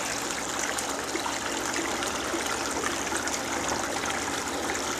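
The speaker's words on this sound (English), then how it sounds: "Drain off some of this water" Water drains out of a fish shipping bag during acclimation, a steady, close splashing trickle that runs without a break and with no voices.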